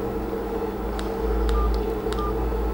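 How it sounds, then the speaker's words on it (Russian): A Just5 Brick mobile phone plays its alarm melody as a few short, thin electronic beeps spaced unevenly over a steady low background hum. "Здесь также вставляется мелодия будильника, их всего 3."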